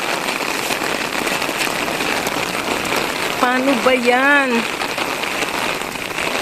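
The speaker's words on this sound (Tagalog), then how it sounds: "Lakas ng ulan." Heavy rain pours down steadily in a hissing, dense wash close by, with a person speaking briefly partway through.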